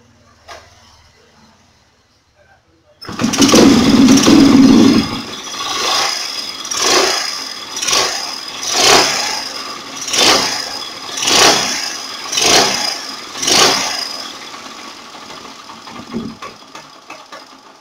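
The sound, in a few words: motorcycle engine revving during RPM test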